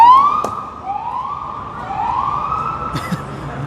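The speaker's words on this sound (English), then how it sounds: "That might be the first time that we've heard sirens tonight," Police-style emergency vehicle siren wailing through New York City streets at night, rising and falling sweeps repeating over steady urban traffic hum, moderately loud and a little distant.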